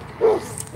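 A single short bark from a dog at an outdoor dog park on a Friday night, one brief yip close by with faint ambient noise around it.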